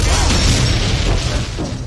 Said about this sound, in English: They're getting destroyed. Our Team Fortress is getting destroyed.